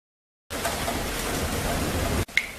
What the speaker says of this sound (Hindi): बाहर बहुत बारिश हो रही है